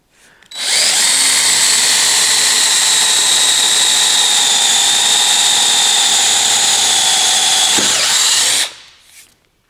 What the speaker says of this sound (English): As you can see, that's drilling very nicely